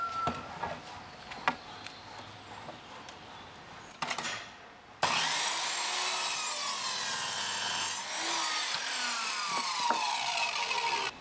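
A hand saw cuts through timber for a fence panel, first with a few scattered knocks and scrapes, then with loud, close, rhythmic rasping strokes that run steadily to the end.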